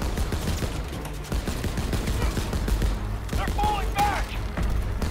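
Heavy gunfire from a hard-to-control weapon in Call of Duty WW2 rattles in rapid repeated bursts, loud and sustained, while a voice talks over the shooting.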